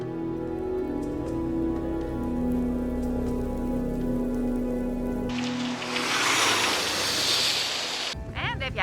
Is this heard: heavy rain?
yes